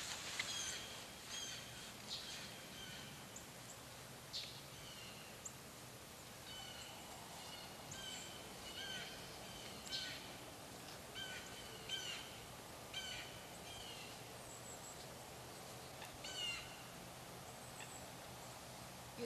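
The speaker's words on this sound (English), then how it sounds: "Over that way, you can see the birds over there. You can hear them probably." Birds near a lake give scattered, faint calls at a distance over a soft outdoor background hiss, with no voices heard.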